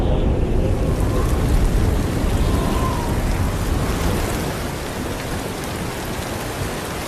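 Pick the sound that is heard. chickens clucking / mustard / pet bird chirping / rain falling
rain falling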